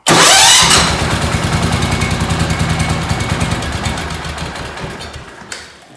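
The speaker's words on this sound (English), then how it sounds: "Now it sounds like a real starter. Seems to spin the engine faster" Ariens snowblower engine cranked by a replacement electric starter: a quick rapid whir of cranking, then a fast rhythmic chugging as the engine turns over, fading toward the end, close and alone.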